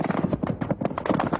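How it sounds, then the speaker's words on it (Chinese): Soldiers fire rifles in a naval clash at a disputed reef, heard as a rapid burst of about a dozen sharp, close, evenly spaced cracks over little more than a second. "我国军队开枪。"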